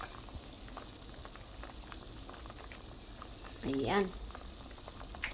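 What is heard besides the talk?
meat stew with annatto seeds boiling in a covered pot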